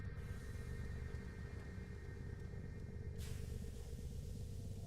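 Distant thunder rolls low and continuous beneath steady hum and faint hiss, with no speech.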